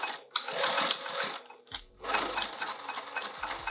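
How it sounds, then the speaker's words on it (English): A sewing machine runs in steady bursts as it stitches around a pouch, with a short pause near the middle before the whirring resumes, close and clear. "let's start sewing on this, and we're gonna try to go all the way around"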